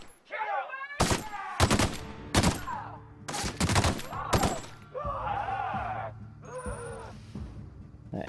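Gunshots from a gun in The Outer Worlds, about six loud, sharp single blasts spaced roughly half a second to a second apart, between quieter stretches of game ambience and chiming effects.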